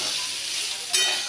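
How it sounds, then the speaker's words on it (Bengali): Sliced papaya frying in a pan at home, a steady close sizzle with a brief brighter crackle near the end, no voices. "এরকম ভাজা ভাজা হয়ে এলে"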